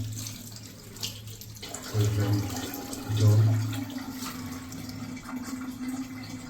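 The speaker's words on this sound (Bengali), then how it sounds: "এখানে পানি পড়ে যাচ্ছে" Tap water pours onto a silicone splash pad by a sink, a steady splashing stream that swells louder in two short bursts, close and continuous with faint background sound and no talk.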